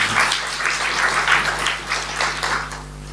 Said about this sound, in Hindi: भाई ताली तो बजाओ जरा